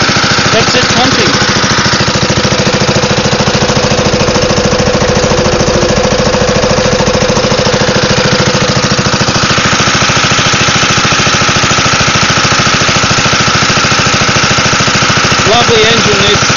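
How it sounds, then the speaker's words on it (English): A Wisconsin AENLD engine mounted on a Land Rover drives a Pacific water pump. It runs with a steady, dense, loud chugging that continues without a break for the whole clip. "Lovely engine this. Just chugs along, moving a lot of water."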